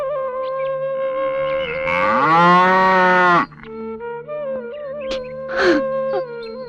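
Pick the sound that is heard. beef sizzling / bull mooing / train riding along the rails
bull mooing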